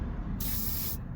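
WD-40 squirted from a spray can into a hole on a car part, one brief close hissing burst of about half a second, alone with no talk.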